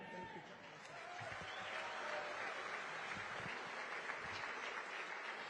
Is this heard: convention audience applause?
yes